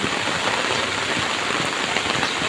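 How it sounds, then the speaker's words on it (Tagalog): Heavy rain pours down in a thick, unbroken hiss, close and loud throughout with no voices. "ayan guys ang lakas ng ulan no"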